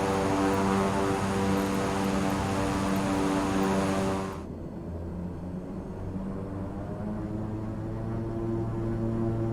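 Twin turboprop engines of a King Air B350i in Microsoft Flight Simulator 2020 hum steadily and loudly, with a bright high whine that cuts away partway through while the low propeller drone carries on.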